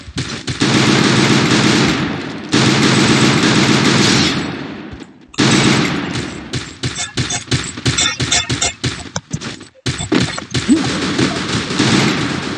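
Rapid automatic gunfire from the Free Fire battle game in Clash Squad mode, dense sustained bursts for several seconds, then a short gap and choppier, stuttering volleys of shots, loud and close.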